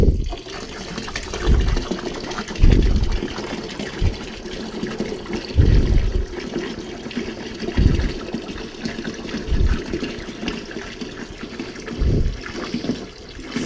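Water poured from a container into a 2.5 gallon jug while making cherry honey mead, heard as a steady liquid fill with repeated low gulping surges and sloshes at close range.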